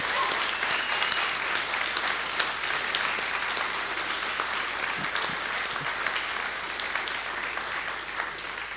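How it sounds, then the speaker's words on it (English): Film festival awards audience applauding the nominees and winners, a steady sustained clapping from a crowd that holds evenly for several seconds. "I'd like a round of applause for all the nominees and the winners"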